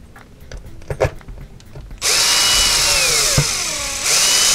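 Power driver sinking countersunk screws into an Axial EXO roll cage: quiet handling clicks and taps first, then a loud, close, sustained whirring drive with a pitch that sweeps and shifts, pausing briefly before a final burst.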